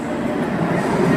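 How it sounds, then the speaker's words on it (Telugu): A train arrives at a station, heard as a brief, steady low rumble of rolling carriages that is moderately loud and close. "ట్రైన్ వచ్చింది."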